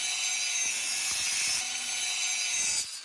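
Metal from an old fire extinguisher cut along a traced line while making a homemade stove, a continuous harsh, hissy grinding rasp held steady for about three seconds before it tapers off.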